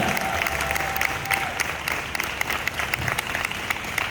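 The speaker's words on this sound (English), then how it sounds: "Can we have another huge round of applause for our lovely band here?" A dense, loud wash of crowd applause and cheering for a school band after an energetic performance at an international school event, sustained without a break, with a faint tone and low rumble early on.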